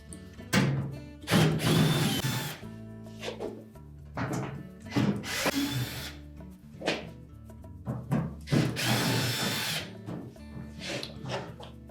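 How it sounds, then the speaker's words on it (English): A power drill backs screws out of a Frigidaire washer's rear panel in repeated bursts of whirring, each a couple of seconds long with short pauses between, plus occasional knocks and rubbing against the panel. "begin by removing the screws on the side and the bottom"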